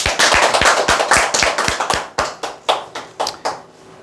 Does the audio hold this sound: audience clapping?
yes